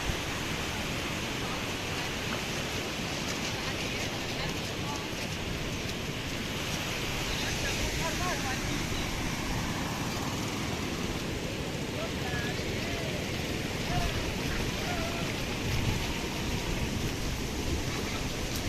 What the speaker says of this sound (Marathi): या पावसामुळे या ठिकाणी या ओढ्याला पूर आलेला आपण या ठिकाणी पाहतोय